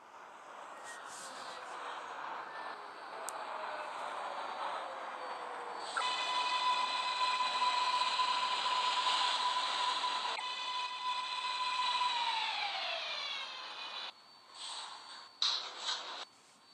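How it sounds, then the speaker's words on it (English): A NYCT R188 subway train arrives in the Hmmsim 2 simulator, with a steady rolling rumble joined by a long rising-then-falling motor whine that fades as it stops, ending with a few clunks. "The next 7 train to Manhattan is now arriving."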